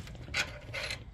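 A ratchet wrench removes the last bolts holding a car alternator, giving two short bursts of quick clicking close to the microphone with a quiet pause between them.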